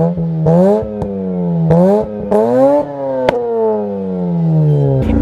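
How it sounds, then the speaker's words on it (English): Car with a catback exhaust revving hard several times, the pitch rising with each throttle blip and falling back, loud and close with sharp clicks and pops between revs. "It does have a catback exhaust, which sounds nice"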